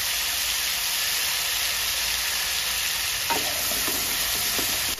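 Washed potato pieces fry with turmeric in a pan under a dense, even sizzle. Near the end a few scraping stirs come through, close and steady, with no voices.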